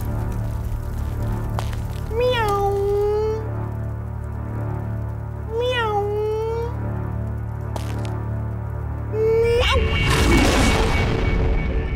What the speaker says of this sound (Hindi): छोटी सी प्यारी सी बिल्ली है, बिल्ली।